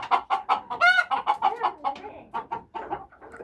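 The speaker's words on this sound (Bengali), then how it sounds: "এই দেখো এটা হচ্ছে মোরগ" A Fayoumi rooster and hens in a backyard poultry setup give a close run of rhythmic, repeated clucks, with one louder drawn-out squawk early on and the clucking continuing steadily after.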